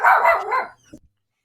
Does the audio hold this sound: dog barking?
yes